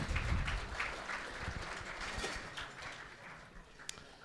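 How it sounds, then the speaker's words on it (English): Conference audience applause at the NY-GEO 2024 lunch program, a faint, brief patter of clapping that peaks at the start and thins out over a few seconds. "A little round of applause."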